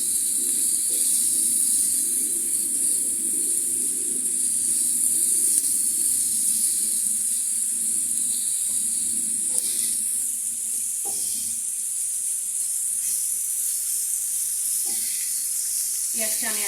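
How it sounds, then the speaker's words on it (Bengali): Onion and garlic sizzle steadily in a hot pan for a garlic bhorta, a constant close hiss with occasional stirring scrapes and clicks. "পেঁয়াজটা আমি আরেকটু ভেজে নিই"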